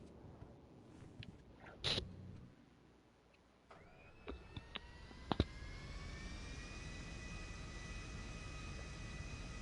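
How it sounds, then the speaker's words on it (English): The Vestra jet engine in a video game spools up on the runway before takeoff: a rising whine that settles into a steady roar, with a few sharp clicks and blips early on. "This is the Vestra. This is the first jet that came out that you could buy."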